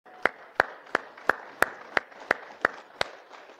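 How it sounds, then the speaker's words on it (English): Church congregation giving a hand clap in unison, about ten sharp, evenly spaced claps in a slow steady rhythm, distinct and moderately loud in a room, no talk over them. "let's give the Lord a hand clap."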